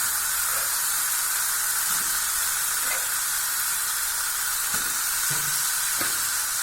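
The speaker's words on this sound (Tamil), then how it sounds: "இப்போ நம்ம உருளைக்கிழங்கை போட்டுடலாம்." Potatoes go into softened tomatoes frying in a pan for a chickpea varuval: a loud, steady hiss of sizzling with a few soft knocks and stirs underneath.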